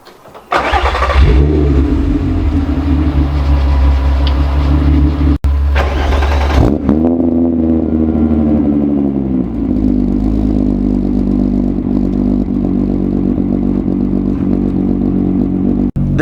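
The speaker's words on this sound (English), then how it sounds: "So quick little rip in the R with the fancy new exhaust, and my car's just loud as always." A Volkswagen R32 with a 3.2-litre VR6 engine and a new aftermarket exhaust starts and revs hard near the microphone, a loud, steady roar with a sharp throttle blip before settling into a deep rumbling idle.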